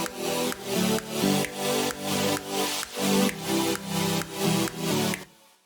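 A synth bass patch built from a square-wave oscillator in the freeware Surge synth, pumping in a steady rhythmic pattern of repeated notes at a house tempo, loud and alone before cutting off at the end.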